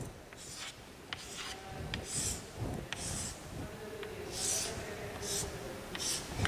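Chalk or marker strokes on a board during a chemistry lesson on p-block elements, heard as a run of short, scratchy, close-up bursts spaced irregularly over a quiet background.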